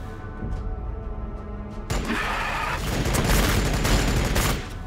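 Gunfire in the video game Warhammer 40k Battlesector, a sudden loud onset of dense, continuous battle fire with booming impacts that keeps building for several seconds, following a quieter stretch of faint background noise.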